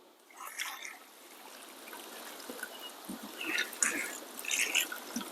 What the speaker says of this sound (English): I like to just tip this bucket over and just strain out